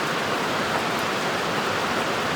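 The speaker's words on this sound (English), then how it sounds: "Now it's going to rain again." Steady rain falling outside, a constant broadband hiss with no breaks or individual drops standing out, heard alone without talk.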